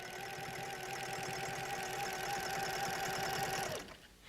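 A sewing machine quilts through layers of a quilt in one steady, rhythmic run that slows and stops near the end. It is fairly close and has no voices over it.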